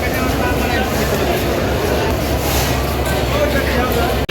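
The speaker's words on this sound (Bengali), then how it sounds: "খুলনা থেকে ছেড়ে আসা ঢাকা অভিমুখী 725 সুন্দরবন। 5:27 ইন করছে।" A Sundarban Express train (725), running from Khulna toward Dhaka, pulls into the platform with a loud, continuous low rumble and rattle of rolling cars. The noise holds steady throughout and ends abruptly.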